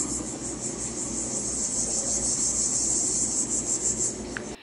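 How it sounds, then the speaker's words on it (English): A grasshopper rasps by rubbing its legs against a wing, making a steady, high, pulsing buzz that stays soft and fairly close throughout, with no voices. "The rasping sounds produced when the grasshopper rubs its legs up and down against the wing is fairly soft"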